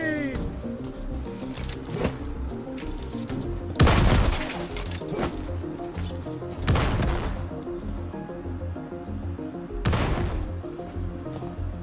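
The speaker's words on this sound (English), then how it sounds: "let's chuck some grenades" Grenades explode in the video game Star Citizen, heavy booming blasts landing at spaced intervals amid scattered gunfire and combat noise, with a player's voice faintly under the action.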